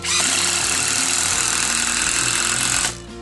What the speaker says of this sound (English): So we just stick a couple of screws into our timbers, just like so.